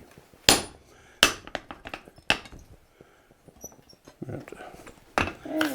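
A hammer driving a punch through hot metal at a blacksmith's forge rings out in four sharp, loud strikes spaced irregularly, with quieter clinks and faint shuffling between them.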